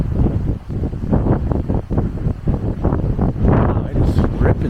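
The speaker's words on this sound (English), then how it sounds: "wow, it is ripping through here, the wind" Strong wind tearing through a mountain wilderness in Arizona among sandstone slabs, loud gusty buffeting against the microphone in repeated surges, with a brief voice mixed in.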